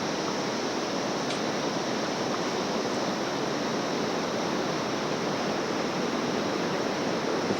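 A river rushes through a valley below Annapurna in Nepal, a steady, dense roar of flowing water that stays unchanged and fairly loud throughout, with no voices.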